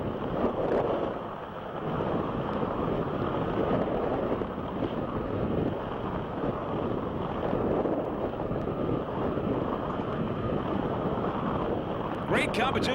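Pro Outboard offshore racing powerboat running hard at sea during the 1996 Palm Beach Offshore Grand Prix: a steady, loud engine and hull roar heavily buffeted by wind across the microphone, continuous for the whole stretch.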